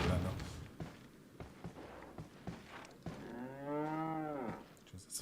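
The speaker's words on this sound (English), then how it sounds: "It's a familiar sound to any Irishman, huh? A mooing cow." A cow moos loudly and close in Resident Evil 4, one long drawn-out low moo after some thuds and footstep-like knocks, with speech around it.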